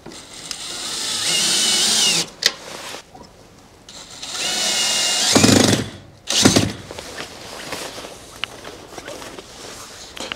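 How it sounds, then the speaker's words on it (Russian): A power screwdriver whirs in two sustained bursts, driving screws into clamps that hold Japanese KMEW fiber-cement siding panels, with a sharp click between runs and quieter handling noise afterward. "Вот сейчас мы докрутим наши клеймера"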